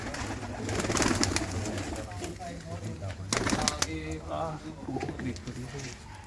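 Pigeons coo repeatedly nearby, low throaty calls layered over people talking and background noise.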